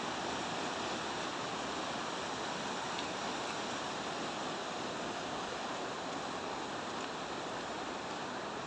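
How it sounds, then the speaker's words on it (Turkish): Steady rushing water from a waterfall on an outdoor walk near a pair of bridges, a continuous broadband roar filling the whole clip at moderate level with no voices. "Biz şimdi bu suyun aktığı şelaleye doğru gidiyoruz."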